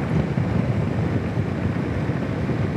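At 60 mph on a motorcycle fitted with a universal windshield wind deflector, dense low wind roar buffets the rider constantly, with nothing else heard above it.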